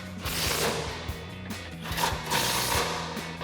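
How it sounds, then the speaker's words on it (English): Impact wrench hammering rapidly as it tightens bumper bolts with an 18mm swivel socket on a RAM 2500 rear bumper install, a close, continuous rattling burst. "Now we can tighten these down with an 18mm swivel socket on our impact."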